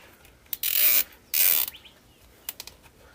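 A zip tie is cinched shut while making a handmade bow, giving two close bursts of rapid ratcheting clicks, followed by a few faint scattered taps.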